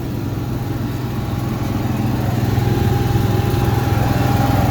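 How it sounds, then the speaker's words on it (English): A Cummins generator set on a 2012 Thor Motor Coach Hurricane 32A RV runs steadily with a constant droning hum and a faint tonal whine. The engine is close and loud, heard alone with no voices. "Next up is the gen set."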